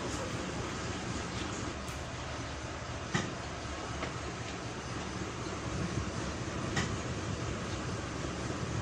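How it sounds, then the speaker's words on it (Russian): A diesel passenger train waits at a small station stop, its engine rumbling in a steady low drone with faint clanks and a few sharp knocks. "дизель-поезд опоздал, и поэтому вот-вот сейчас отправится"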